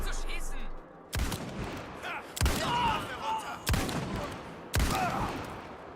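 Gunshots in Indiana Jones and the Great Circle ring out in a loud burst of about four sharp cracks spaced roughly a second apart, each trailing off into echoing game ambience.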